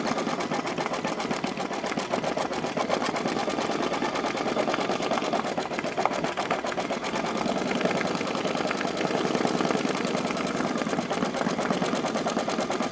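An embroidery machine stitches applique onto a tea towel, laying a wider running stitch before a satin stitch, with a steady, loud, rapid mechanical chatter running unbroken throughout.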